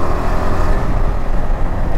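Car driving along the Mumbai–Goa Highway NH66 near Sangmeshwar, a steady low engine and road rumble with tyre noise, continuous and close, no voices.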